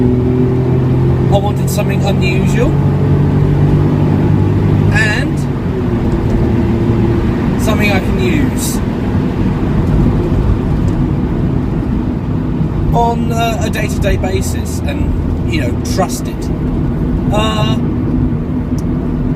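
A Smart Roadster's engine idles with a low, steady hum beneath someone talking close by throughout.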